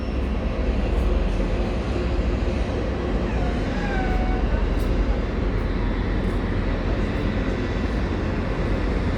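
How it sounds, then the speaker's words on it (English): Train departing York station bound for Cleethorpes, a loud steady rumble of engine and rolling wheels with faint whining tones, heard from the platform with a voice talking. "We have a train departing York now. I believe this train is going to Cleethorpes."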